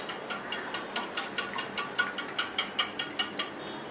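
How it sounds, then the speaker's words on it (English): Eggs whisked by hand in a bowl for a cream cheese chocolate cake, a steady rhythmic scraping and clicking of the whisk, about three to four strokes a second, close and clear with no talk. "I'm going to whisk my eggs"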